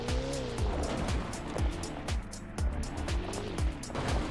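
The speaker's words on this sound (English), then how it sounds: "here is a comparison of crashing into a wall in Car Crusher" In the Roblox game Car Crusher, a car engine drones under a series of dull impact thumps as the car crashes into a wall repeatedly, with no one speaking.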